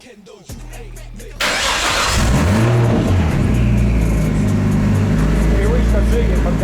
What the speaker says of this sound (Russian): Привычка джиги подгазовывать.